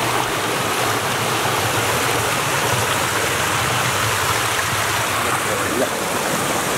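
Stream water piped from a nearby source to feed a small electricity-generating setup in Nepal, rushing in a steady, close, unbroken wash with no voices.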